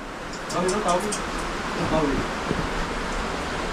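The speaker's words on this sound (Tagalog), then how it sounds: "lumakas na yung ulan" Heavy typhoon rain pours down steadily in Bicol, Philippines, in a constant broadband hiss, with faint voices talking over it.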